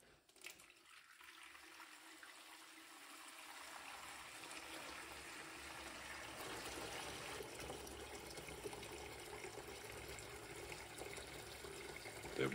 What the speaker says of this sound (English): Time to put the water chiller through its first test.